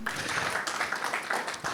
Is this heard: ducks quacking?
no